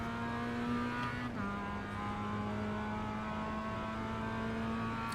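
Mazda MX5 race car engine in the iRacing sim at Navarra Speed Circuit, a steady droning hum holding near-constant pitch with a brief dip, heard from inside the car.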